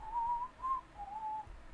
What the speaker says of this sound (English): The whistling might have helped you a little bit.